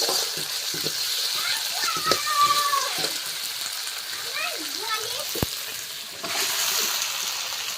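Ingredients for duck curry fry in a pan with a continuous close sizzle and occasional stirring scrapes, while voices talk faintly over the hiss.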